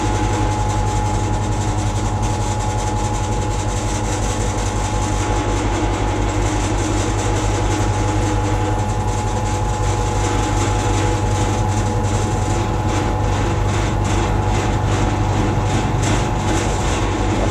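Metal machining tool grinding through a heavy cut on V-twin gearbox parts, a loud continuous droning rumble with a high whine, steady and close throughout.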